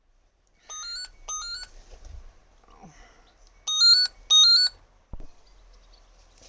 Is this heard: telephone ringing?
yes